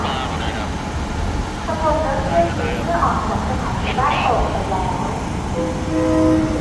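Thai Special Express train 43 stands at Ban Pong station. A low rumble of rail noise and engine hum continues steadily under a woman's station announcement, with faint tones and a brief horn-like note near the end.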